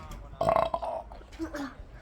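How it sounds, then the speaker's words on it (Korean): A father burps loudly and close by, a long gurgling belch followed by a shorter one, with some faint voice sounds in between. "아빠, 아빠의 트림 소리 들려주세요."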